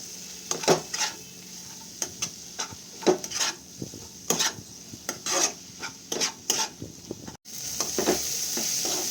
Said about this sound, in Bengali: এবার সবজিগুলো ভালো করে একটু নেড়ে ছেড়ে নিয়ে ভাজা ভাজা মতো হয়ে আসলে